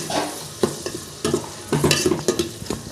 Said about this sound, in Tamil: அதை சேர்த்துட்டு அதையும் வந்து நல்லா வதக்கிக்கோங்க